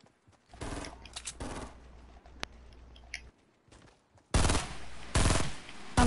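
Gunfire in a Fortnite squads match arrives as several loud, rapid bursts of shots separated by quieter gaps, with a few single cracks between them.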